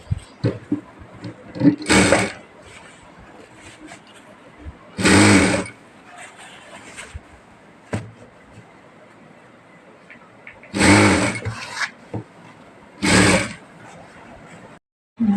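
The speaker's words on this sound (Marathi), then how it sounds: "इथे आपल्याला इथे आपल्याला शिलाई टाकून घ्यायची" A sewing machine stitches a blouse in several short whirring bursts of a second or so each, separated by quieter pauses filled with low room noise.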